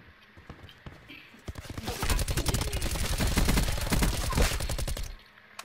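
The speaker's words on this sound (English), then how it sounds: "I'm shooting at him the whole time." Gunfire in Call of Duty Blackout: a rapid fusillade of close automatic shots, loud and dense for about three seconds, preceded by quieter movement sounds, with someone talking.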